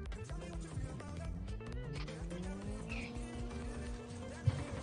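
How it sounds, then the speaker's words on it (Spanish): A car engine rises and shifts pitch as it approaches in a mobile shooter game, a quiet, fairly distant drone layered with clicks and small interface sounds. "viene un carro, viene un carro"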